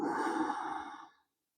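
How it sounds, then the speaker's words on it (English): A single slow exhalation through the nose during a gentle yoga flow for the lower back and hamstrings, a close, soft breathy rush that fades out after about a second. "breathing out."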